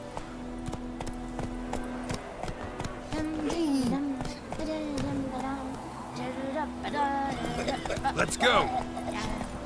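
Hoofbeats of the horse Roach in a video game, rhythmic clip-clop of a moving horse beneath voices and game sounds, with a short shout partway through.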